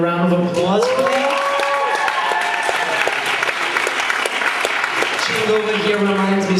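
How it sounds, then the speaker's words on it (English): Sustained audience applause fills a concert hall, steady clapping from a crowd over a musical chord that swells and fades beneath it. "Can we give him another round of applause"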